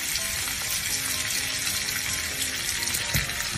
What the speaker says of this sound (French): Il est important de bien caraméliser cet agneau.